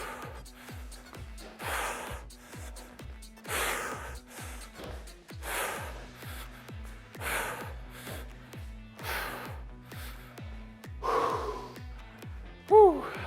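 Heavy, rhythmic breathing during workout reps: repeated sharp exhales and gasping inhales at a steady pace, close and fairly loud, with no talk over it.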